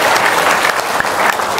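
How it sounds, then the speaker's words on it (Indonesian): Loud, dense audience applause fills the whole brief stretch at a steady level, a continuous wash of many hands clapping with no talk on top. "Tepuk tangan dong."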